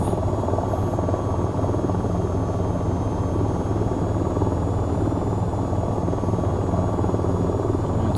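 A helicopter in a flight game drones with a loud, constant engine and rotor roar as it takes off, steady and close throughout, with no voices.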